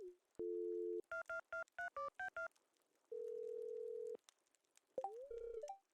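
A telephone in Stardew Valley gives a steady dial tone, a quick run of dialing beeps, then a long ringing tone and a short electronic chirp, all clean and close with no talking.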